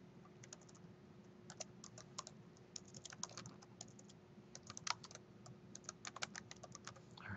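Quiet, irregular computer keyboard typing as a folder name is entered, a run of light clicking keystrokes over a faint background hum, no talking.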